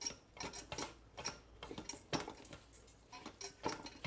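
Rice ingredients with fish sauce and white pepper are mixed in a pot, bringing repeated scraping and clinking utensil strokes in an uneven rhythm, close and fairly quiet.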